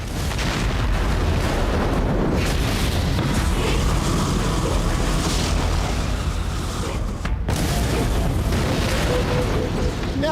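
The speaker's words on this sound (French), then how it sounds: "Il s'apprête à projeter de la poudre d'aluminium en l'air pour ensuite l'embraser." Aluminium powder thrown into the air and ignited makes a long, roaring blast of fiery whooshing and rumbling, loud and sustained for several seconds, with a brief dip before it surges again.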